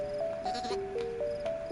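Sheep bleating in a series of wavering calls, moderately close, over a steady hiss and faint chiming tones.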